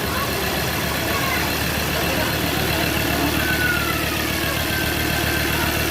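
A Ford Ranger Wildtrak engine runs steadily after a full overhaul and rebuild, a loud, close, continuous idling drone with a light knocking texture throughout.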